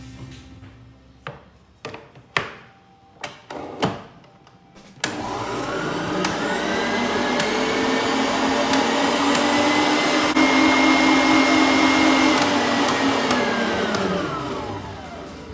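A few sharp knocks and clatters come first, then a stand mixer starts and whirs loudly and steadily as it beats butter and sugar into a light, fluffy cream, its pitch shifting slightly before easing off.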